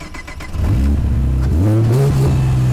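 V6 engine swapped into an Exocet kit car starts and revs hard, a loud close roar rising in pitch over a couple of seconds with brief clatter at the start.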